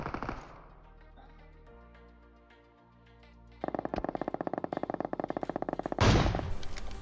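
Bursts of gunfire ring out in a mobile battle royale game, starting with a loud crack, then a fast, evenly spaced volley of automatic shots, ending in a heavier close blast over a low ambient game hum.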